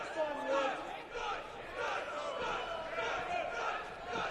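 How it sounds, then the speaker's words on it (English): Wrestling arena crowd at a pro wrestling show cheering and chanting in rolling waves, moderately distant and fairly faint, with no clear commentary over it. "Getting some crowd support"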